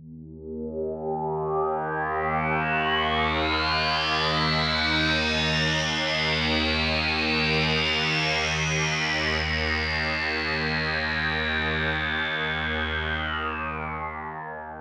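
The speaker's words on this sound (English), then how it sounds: "Now hear how the dispersion makes each voice drift in terms of timbre and time across the stereo" A sustained Jup-8 V synthesizer pad chord holds steady while bright overtones sweep and drift up and down, each voice drifting in timbre and timing across the stereo field, shimmering and swirling continuously.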